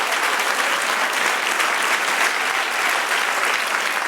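Congregation in a church service breaks into sustained, dense applause, steady and loud throughout with no talking over it.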